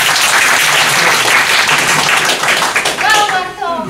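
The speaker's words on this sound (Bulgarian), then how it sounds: "Аплодирайте ли?" Seminar group in a personal-skills evening class bursting into loud, sustained applause and clapping that fades slightly near the end, with a voice briefly heard over it.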